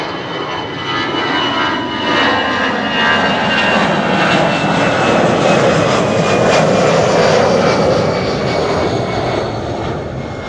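Aircraft engine roar at Amsterdam Schiphol Airport, a loud, continuous broadband rumble and whine that swells slightly and holds steady throughout, with no voices over it.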